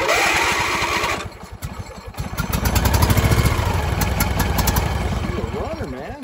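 Engine of a Craftsman YT4500 riding lawn tractor running after being turned over: a rough, throbbing idle with a loud, uneven rumble close by, while voices talk over it.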